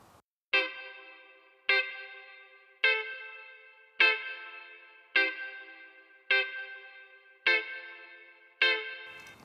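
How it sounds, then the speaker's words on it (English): Eight evenly spaced plucked guitar-like notes run through a rack spring flat spring reverb effect in Logic, each sharp attack followed by a metallic decaying tail that rings out before the next. "now that is a spring reverb"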